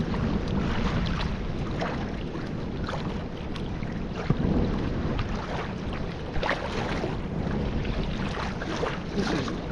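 Kayak paddling on calm water in Sheephaven Bay, Donegal, from an Itiwit x500 kayak: soft rhythmic paddle swishes and gentle water lapping close by, under steady wind buffeting on the microphone, no voices.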